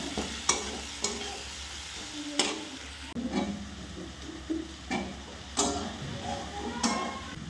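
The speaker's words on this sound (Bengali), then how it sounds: "এটা ভাজা হচ্ছে" A hilsa fish head fries in a pan with a steady sizzle, broken by intermittent clicks and clatters of a utensil stirring and tapping close by.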